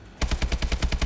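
Rapid automatic gunfire from Call of Duty Advanced Warfare, a loud, tight burst of about ten closely spaced shots at a steady fast rhythm, heard alone.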